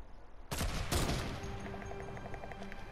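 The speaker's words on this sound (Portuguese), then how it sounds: "Bora atirar de sniper!" Sniper rifle fire in a video game: a sharp loud shot cracks out, a second blast follows half a second later, and both trail off into a ringing, echoing tail, with no voices over them.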